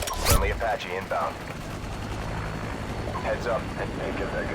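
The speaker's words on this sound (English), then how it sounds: "Friendly Apache inbound." A friendly Apache helicopter in the 2009 Modern Warfare 2 game rotor-chops over a busy battlefield, mixed with bursts of gunfire and crackling fire, while voices talk over the din.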